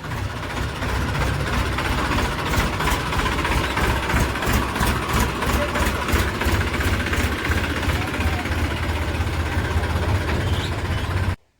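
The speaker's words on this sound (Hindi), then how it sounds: "आ गया मैसी 245 ट्रॉली जोड़ के" A Massey Ferguson 245 tractor with a trolley hitched idles steadily, its low engine chug running continuously and fairly close before cutting off abruptly at the end.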